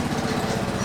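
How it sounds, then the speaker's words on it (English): A tractor passes by outdoors on a farm, its steady engine drone loud and continuous with a rough, pulsing low rumble and no talk over it. "tractor going by"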